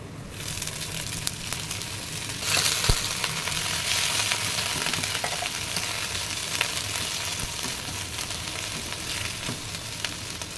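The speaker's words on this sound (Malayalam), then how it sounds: "അപ്പോൾ ഈ ഉള്ളി മൂത്തതിന് ശേഷം നമുക്ക് കഴുകി വച്ചിരിക്കുന്ന ഇല ഇട്ട് കൊടുക്കാം" Washed drumstick leaves drop into onions frying in a pan, and a steady, loud sizzle swells as they hit the hot oil and keeps crackling on evenly without talk.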